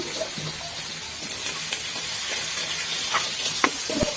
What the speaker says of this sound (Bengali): এখন আমি টমেটোগুলো দিয়ে দিচ্ছি